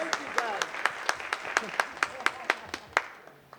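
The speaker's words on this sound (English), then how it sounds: "give a clap to Richie, please" A small audience at a graduation ceremony claps in a sparse, rhythmic pattern of distinct, fairly close hand claps that fade out after about three seconds, with faint voices underneath.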